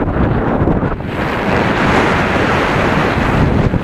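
Open-sea waves and strong wind on the Bartın coast of Turkey, a loud continuous roar of surf buffeted by heavy wind noise against the microphone, with no speech.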